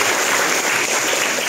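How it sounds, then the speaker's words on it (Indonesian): Students on a school study tour at a museum clap together in a dense, steady burst of applause that runs briefly and evenly. "Ya, tepuk tangan."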